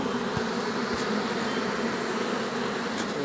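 Honeybees at an open hive in Jamaica hum in a continuous dense buzz, loud and close, with a few individual bees droning past nearby.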